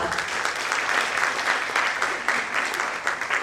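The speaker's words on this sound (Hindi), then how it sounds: "मैं एक बार चाहती हूँ जोरदार तालियां आप सभी सुधी श्रोताओं के लिए" Enthusiastic applause from an audience at a book launch and mushaira poetry gathering, a loud, dense and continuous clapping crowd with no voices over it.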